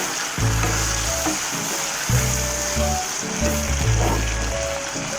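Baby corn manchurian sauce with green chilli and soy sauce stirred in a frying pan: steady close sizzling, with a spoon scraping and clacking against the pan in three rhythmic bursts.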